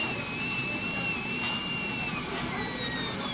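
A dental handpiece spins a burr against a tooth while refining the finish line of a full gold crown prep, giving a steady high-pitched whine that wavers slightly in pitch over a constant background hiss.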